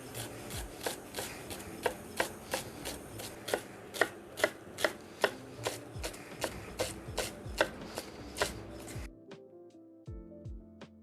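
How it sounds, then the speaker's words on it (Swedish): A kitchen knife chops a whole silverskin onion finely on a cutting board, a steady run of crisp, close taps in even rhythm that stops near the end. "Så silverlök, vi använder en hel lök idag,"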